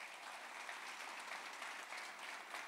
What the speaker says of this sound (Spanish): Un fuerte aplauso para ustedes también.